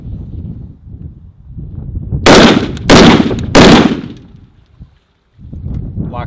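Three loud, close rifle shots from an M&P10 rifle fitted with an adjustable gas block, firing Tula 165 grain ammunition at an outdoor range, the blasts coming in quick succession about half a second apart over a low rumbling background.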